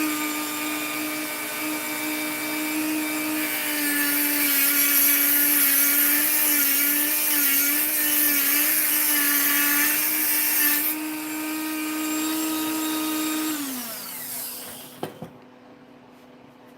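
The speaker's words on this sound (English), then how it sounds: "One thing I gotta do is cut this pin flat." A power tool cuts a metal pin flat, running at a steady high whine with a grinding edge, then spinning down and stopping near the end, followed by a couple of small clicks and quiet.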